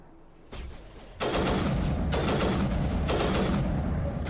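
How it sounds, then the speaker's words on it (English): Sniper rifle in the Mass Effect video game firing in loud bursts, the first sharp shot followed by dense, rapid volleys of crackling gunfire that continue without pause. "the burst sniper rifle is really fucking good"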